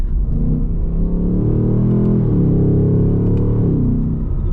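A 2026 Ford Mustang GT Premium engine revs and rumbles loudly and steadily through its exhaust, its pitch rising and falling as the driver accelerates, with no talking over it.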